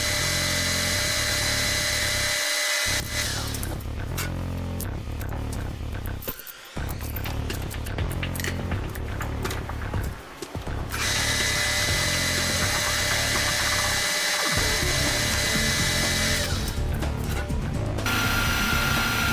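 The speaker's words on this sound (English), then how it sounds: "Now you're going to use the center drill to center both ends." A power drill with a center drill bit whines continuously at high pitch, close and loud, with a few brief pauses and changes in pitch as it centers the ends of a metal bar.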